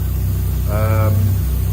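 Toyota 1JZ-GTE engine idling smoothly after standing five years, a steady even low hum with a brief higher tonal whine over it partway through.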